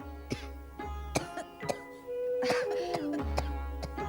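A woman with a lingering cough lets out a run of harsh, close coughs in irregular bursts, with a strained, moaning throat sound between them.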